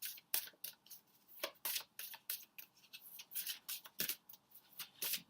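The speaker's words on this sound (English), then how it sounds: "let me just do a quick shuffle" Quick, crisp riffling bursts of playing cards being shuffled, a series of short papery flutters close up and quiet, no voices.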